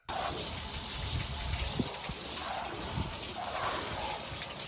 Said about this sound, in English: Next thing we want to do is water these in real good.